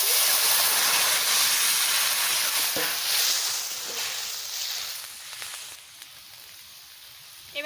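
Curry poured into a hot pan for a papaya and fish tarkari, a loud bright hiss and sizzle that starts strong and gradually fades, with a few faint clinks along the way.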